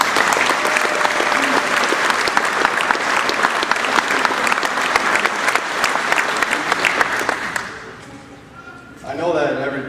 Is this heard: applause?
yes